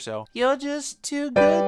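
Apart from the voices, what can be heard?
None of the usual background noises is heard.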